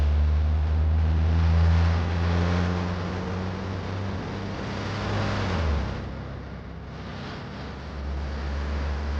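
A car with failed brakes drives on, its engine a steady low rumble and drone that dips around the middle, then swells again, with no one talking.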